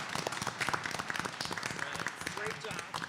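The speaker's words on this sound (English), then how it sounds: "I would like a round of applause for our new board officers for 2023" An audience at a school board of education annual organization meeting claps for newly installed board officers, a scattered, fairly quiet round of hand claps from a modest crowd, with voices talking over it.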